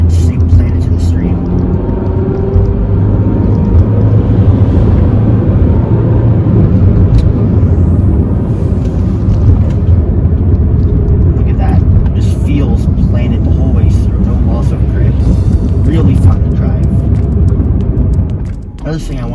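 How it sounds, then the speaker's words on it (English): A 2010 Mini Cooper R56 driven hard through tight S-bend corners, with loud, steady engine and road rumble that holds throughout and dips only briefly near the end. "It's really going to be able to showcase this car's ability to really corner hard and stay planted to the street."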